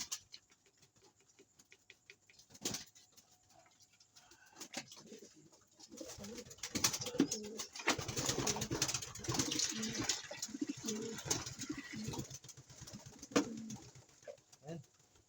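Fancy pigeons coo repeatedly at close range after being given dextrose water, mixed with fluttering and scratchy patter, growing busier and louder in the second half.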